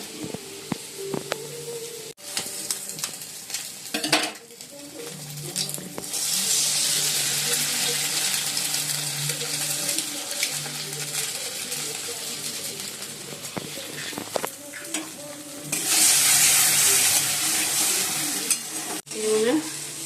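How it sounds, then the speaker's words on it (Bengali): Potato, onion and green chili frying in a pan for chow mein, a continuous close sizzle with spatula scrapes and knocks, plus a brief splash of running water partway through. "আর এদিকে আলু পেঁয়াজ কাঁচা লঙ্কা ভাজছি"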